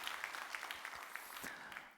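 Faint, light applause from a church congregation at an early-morning service, scattered claps heard from a distance for a short moment.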